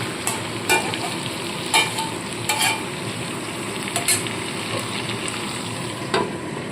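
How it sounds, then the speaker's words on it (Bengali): Spice masala frying with potatoes and pointed gourd over low flame, a steady close sizzle broken by regular bright scrapes of a spatula stirring the pan, about once every second or so, with no talk. "একদম লো ফ্লেমে ঢাকা চাপা দিয়ে আরও এক মিনিট এটাকে আমি ভালো করে আলু আর পটলের সাথে মশলাটাকে কষিয়ে নেব"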